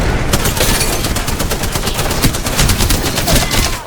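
Rapid automatic gunfire crackles through a firefight in the battle royale shooter Apex Legends, dense bursts of shots overlapping continuously at close range, loud and steady throughout with no voices.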